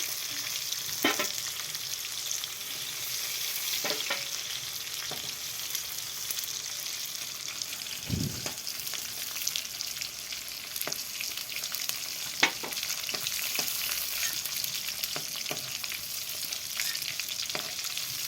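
Cauliflower fries in oil with a steady, even sizzle that holds throughout, joined by a few faint scrapes and one brief low thump, with no voices.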